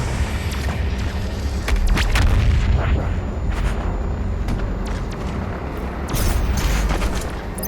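The BFG 10,000 fires in Doom: heavy booming blasts and rumbling impacts roll over a dense, loud wash of game noise, with sharp bursts at several points and stronger swells near the start and end.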